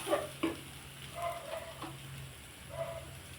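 Ridge gourd peel fries in a pan with a soft, quiet sizzle, broken by a few light crackles and stirring sounds near the start and again toward the end.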